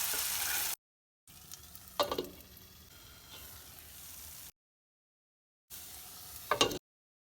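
Jaggery pongadalu batter sizzling in hot oil on a low flame, a steady crackling fry broken by short silent gaps, with no voices.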